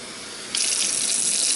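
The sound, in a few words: water running from a tap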